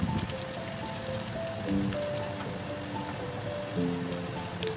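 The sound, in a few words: onions frying in oil with cardamom, cloves, cinnamon, cumin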